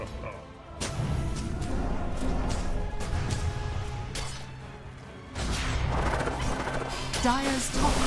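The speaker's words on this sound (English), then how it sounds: "Dire's top tower has fallen." Tower destruction in a Dota 2 match, with dense overlapping game effects: crashing impacts, whooshes and rumbling bursts in several loud surges, plus a tonal in-game cue near the end.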